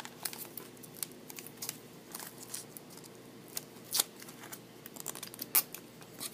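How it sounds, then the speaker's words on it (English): Protective film being peeled off the screen of an HTC One S phone during a glass-only replacement, heard as faint, close crinkling and crackling with a few sharper tearing snaps, no talking. "So I'm just going to take it off just a little bit just so I can peel it off easily"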